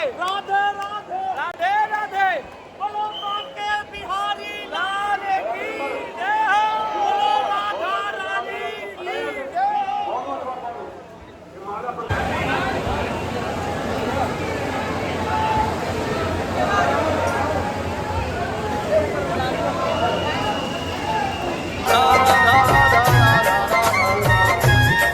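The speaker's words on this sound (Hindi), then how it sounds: "एज़ यूजुअल वहाँ पर बहुत ही भीड़ थी" Dense crowd of devotees at Banke Bihari temple in Vrindavan, a continuous babble of many voices and shuffling that swells and stays loud throughout, with a brighter, busier stretch near the end.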